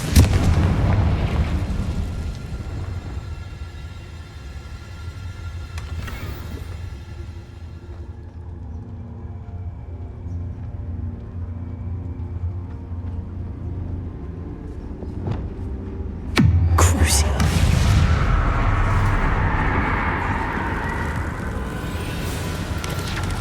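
The Confringo explosive spell in Hogwarts Legacy goes off with a deep, booming blast that rumbles and fades, followed later by a second heavy burst with crackling debris and a rolling low roar, no speech.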